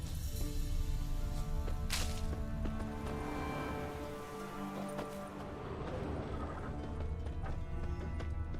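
Horse hoofbeats and whip cracks in The Witcher 3: Wild Hunt, galloping clip-clop with a sharp crack near the start, under a continuous game soundscape.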